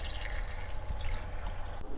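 Warm water pours steadily into a cooking pot for braising pig ears, a soft continuous splashing trickle heard up close and fairly quiet.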